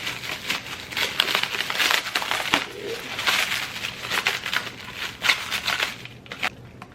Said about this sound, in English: they come packaged up really nicely with a bubble wrap